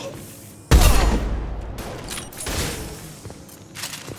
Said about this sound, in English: Shotguns, close.